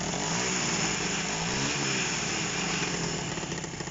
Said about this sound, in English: It's spitting and farting, and it just does not want to run right.